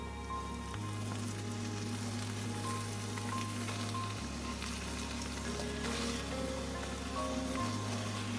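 Red curry paste fries in a pot while a noodle soup base cooks, giving a steady close sizzle and crackle with a low hum running underneath, with no talking.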